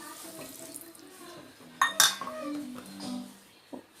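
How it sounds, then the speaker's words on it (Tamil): Water is poured into a bowl of flour batter being mixed for homemade chicken noodles, a brief splashing trickle with a few soft clinks of utensils and the bowl in a quiet kitchen. "இப்போ கொஞ்சம் தண்ணி ஊற்றிக்கலாம்."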